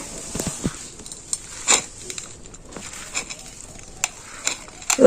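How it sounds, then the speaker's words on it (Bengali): Hands squish and knead mashed eggplant with chopped green chilli in a bowl, producing sparse wet slaps and squelches with quiet gaps between, close to the microphone, over a faint hiss, with no talk. "এবার এটাকে আমি হাত দিয়ে একটু ভালো করে মেখে নেবো"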